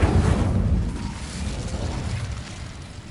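An Incendio fire spell bursts in Hogwarts Legacy, a heavy, rumbling whoosh that hits loudly at once and then rolls on as a sustained roaring blast that fades only slightly.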